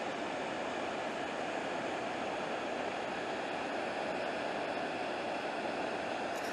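Loud, steady roar of water rushing and foaming near a dam, a dense continuous wash with no let-up and no voices.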